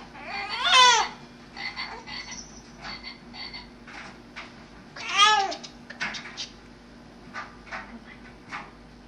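A frog croaks as it is grabbed by hand, giving two loud bursts of rapid, warbling chirps near the start and middle, with scattered fainter clicks and rustles between them.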